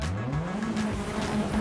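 Nissan 240 sliding sideways in a drift, its engine droning upward in pitch while the tires squeal steadily, loud and close throughout the short burst.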